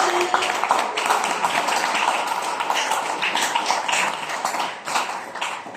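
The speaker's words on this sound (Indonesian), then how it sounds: "Tepuk tangan untuk Pak Doni" Audience applause for a speaker at an IT camp session, a moderate room-filling patter of hands sustained for several seconds, fairly even with small swells.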